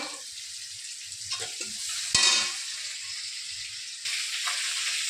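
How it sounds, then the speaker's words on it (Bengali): Chopped onion frying with salt and ginger-garlic paste makes a continuous close sizzle with stirring, flaring in a sudden burst midway and growing louder near the end. "এই যে এখানে পেঁয়াজ কুচি দিয়ে দিয়েছি, এর মধ্যে একটু লবণও দিয়ে দিলাম, দিয়ে ভালো করে কষিয়ে নেব"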